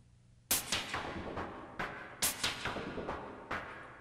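Bursts of synthesized frequency-modulated noise hit in an uneven rhythm, each followed by a washy reverb tail that smears into the next, fairly quiet overall.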